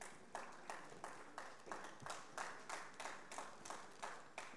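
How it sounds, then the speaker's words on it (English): Audience applause at a corporate certification ceremony honouring insurance company directors, heard as faint, distant rhythmic clapping in regular bursts that keeps going throughout. "Please give them a round of applause, please."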